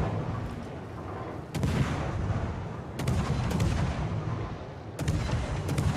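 Naval guns fire from warships in a clan battle video game, with heavy booming salvos landing every second or two over a steady low rumble of engine and battle noise.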